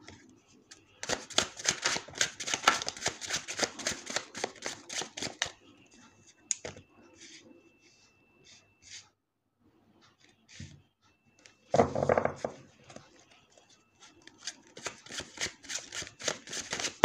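Tarot cards being shuffled close by in two riffling bursts of rapid flapping clicks, with a quiet gap and a voice talking briefly between them.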